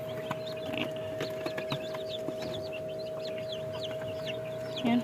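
Young chicks inside a homemade incubator: steady, close high-pitched peeping and cheeping over a constant electrical hum, with occasional louder clucking sounds.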